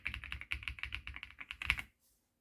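Fast two-handed typing on a compact Royal Kludge R65 mechanical keyboard, a steady run of close, crisp key clicks that stops abruptly, leaving near silence.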